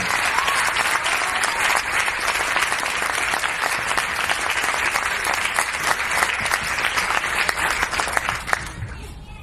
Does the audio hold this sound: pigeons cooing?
no